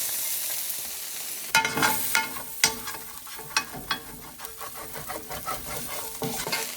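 Shallots hit hot olive oil in a pan, setting off a sudden loud sizzle that keeps frying steadily, broken by repeated scraping and stirring knocks from a utensil against the pan.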